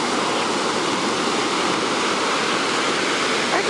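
Waves break on the beach at Playa Zipolite as a dense, steady broadband roar of surf that fills the whole stretch evenly, close and loud, without any talking.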